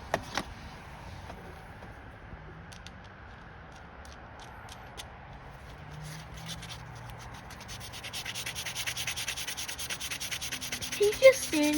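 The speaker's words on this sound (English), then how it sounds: "He's just sanding it now" Sandpaper rubs putty off a Rover P4 80 grille badge in soft, uneven strokes that grow louder and faster toward the end, with no speech over it.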